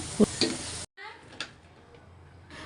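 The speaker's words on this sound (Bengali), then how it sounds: "এই পেঁয়াজগুলোকে একদম হালকা করে ভাজবো" Onions frying lightly in oil for a korma, a steady sizzle that cuts off abruptly partway, followed by quieter scraping and stirring noises in the pan.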